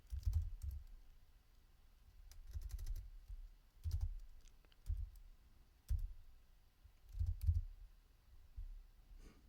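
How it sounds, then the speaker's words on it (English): Soft, close computer keyboard typing in irregular bursts of keystrokes while a word is entered, with small pauses between clusters and a quiet, low-thumping key action. "I'm gonna go on here, type in Ethereum"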